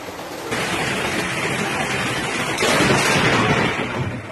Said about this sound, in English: Fast flowing water drags several children in Atlixco, Puebla, Mexico after rain.